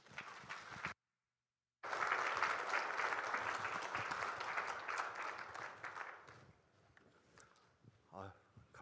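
A church congregation gives a warm round of applause to welcome a missionary to the pulpit, a broad sustained clapping after a short gap, fading out at the end as a faint voice or movement follows.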